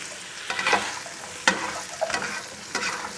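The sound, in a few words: onion and shrimp stir frying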